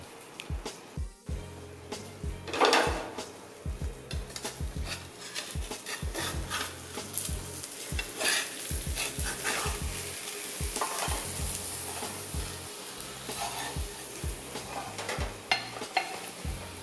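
An omelette sizzles steadily in a pan while a utensil stirs and scrapes it in frequent irregular strokes, close and without talk.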